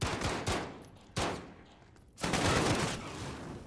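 Video game gunfire crackles in rapid bursts, several loud volleys separated by short gaps, with a dense sustained barrage toward the end, sounding harsh and close.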